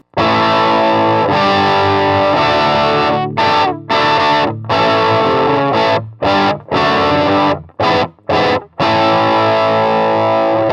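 Electric guitar played through stacked overdrive, distortion and fuzz pedals gives a loud, thick, saturated tone, with sustained chords broken up by choppy stop-start stabs and no talking.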